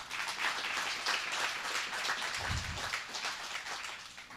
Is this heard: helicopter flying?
no